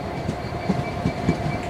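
A Northern Rail Class 322 electric train, unit 322484, passing close by in West Yorkshire with a steady rolling rumble and irregular clickety-clack wheel thumps over the rails.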